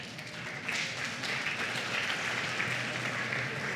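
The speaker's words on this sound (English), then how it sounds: "Give yourself a round of applause." A crowd at a Sunday feast gathering applauds, a continuous wash of clapping from many hands that swells slightly after the first moment and holds steady, with no talking over it.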